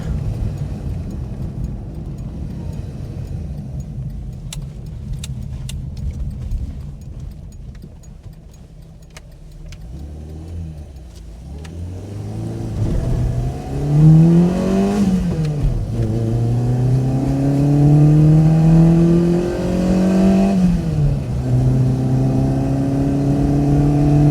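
A small engine in a 1977 Autobianchi A112 revs with a light rasp and climbs through several gears, pitch rising and dropping with each shift, close and steady without talk.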